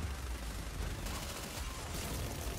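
Dense, sustained gunfire from a boss fight in the video game NieR: Automata, shots rattling in quick sequence with heavy low rumble, loud and continuous throughout.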